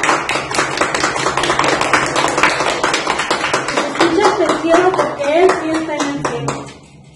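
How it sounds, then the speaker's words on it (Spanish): Dense, steady clapping from a studio audience on a Spanish-language panel discussion show about municipal budgets, sustained for several seconds with a voice faintly beneath it before it dies away at the end. "Un aplauso para Arcos."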